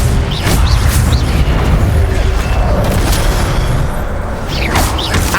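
Spell-casting in Hogwarts Legacy, a fiery Incendio blast mixed into continuous loud combat: repeated bursts, booms and whooshes layered densely with no pauses, no speech.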